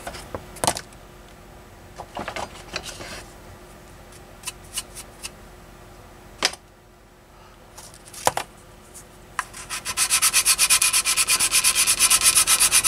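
Sandpaper rubs and scrapes across the plastic surface of a B-47 Stratojet scale model kit, with scattered sharp scratches and taps. Toward the end a faster, louder stretch of rapid back-and-forth sanding strokes closes the sequence.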